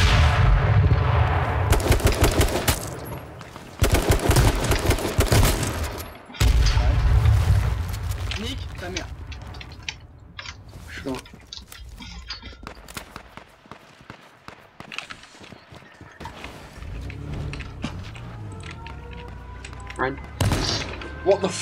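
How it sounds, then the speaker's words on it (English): In the video game H1Z1, bursts of gunfire ring out in loud, clustered volleys early on, then thinner scattered shots follow, with players talking between and over the shooting. "he just shot a bullet"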